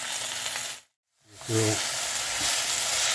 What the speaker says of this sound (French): Maintenant, je vais mettre la viande avec les carottes.